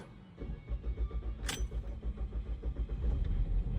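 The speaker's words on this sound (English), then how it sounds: "This will be the first startup to let the oil cycle." Engine of a 2014 Ford Escape cranking and starting after an oil change: a short rhythmic starter whir, a brief sharp click or jangle, then the engine catching and idling steadily, close by with no talking.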